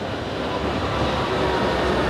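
A tram rolls past on a Gothenburg street, a loud, close, continuous rumble of wheels on rails with a dense metallic roar that holds steady throughout, no speech.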